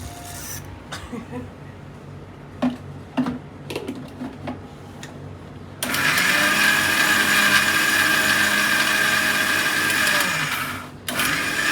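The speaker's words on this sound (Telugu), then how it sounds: "ఇదేదో చట్నీ రుబ్బినట్టు రుబ్బుతున్నాం మనం" An electric mixer grinder turns henna leaves and tamarind into a paste. A few clicks and knocks while it is loaded give way to a loud, steady motor whir lasting several seconds, which then stops abruptly.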